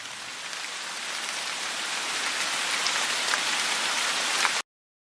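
Steady, dense rainfall pattering on a surface, a continuous hiss of raindrops that swells slightly louder over about four and a half seconds before cutting off abruptly.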